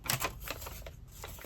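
Paper is folded by hand into a heart origami, the white side and gold side creased together; soft crisp rustles and taps come in quick bursts, quiet and close.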